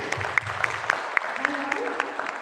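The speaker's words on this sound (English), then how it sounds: "Big round of applause for them." Applause for a grades 3 to 5 school team at an induction gathering, a modest scattering of claps with a few sharp distinct hits standing out, fairly faint, with a voice murmuring underneath.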